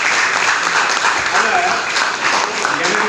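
A debate audience at a Pongal event breaks into dense, steady applause, many hands clapping loudly and continuously from start to end.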